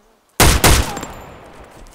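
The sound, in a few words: gunshots from a new weapon in video game DayZ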